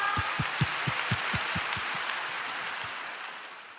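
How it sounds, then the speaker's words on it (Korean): A burst of applause from a church congregation at a Bible recitation contest, with strong low thumps at the start that soften and fade as the clapping continues. "하나님께 영광의 박수 올려드리겠습니다"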